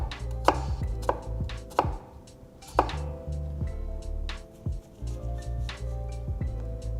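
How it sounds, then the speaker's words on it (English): A knife finely mincing a shallot on a cutting board: close, crisp chopping taps in quick bursts with brief pauses, each stroke a sharp knock on the board. "let me show you how to mince a shallot"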